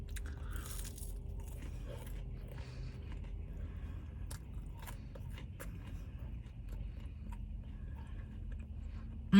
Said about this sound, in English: I hope you guys heard that crisp.